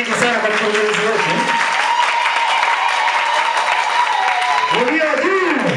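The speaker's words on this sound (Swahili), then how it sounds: "Makofi mengi sana kwa mkurugenzi wetu." Loud, sustained clapping from the audience at a petrol station company's annual general meeting, honouring the director, with voices speaking over the start and end.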